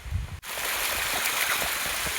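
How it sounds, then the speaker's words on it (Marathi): A mountain stream in the Sahyadri range runs downhill, a steady close rushing wash of water that starts abruptly after a brief pause and continues unbroken, with no voices. "इथून खूप सारं डोंगरावरून पाणी वाहतंय"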